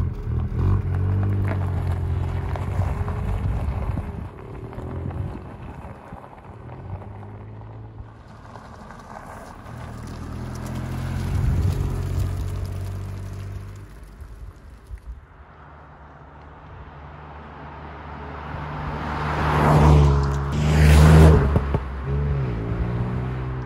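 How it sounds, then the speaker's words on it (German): A Ford Puma ST with a three-cylinder engine drives along a road near a town's edge, giving a steady low engine drone and road rumble that swells into a louder rev toward the end. "schauen wir auf die Straße, wie sich der Ford Puma ST fährt"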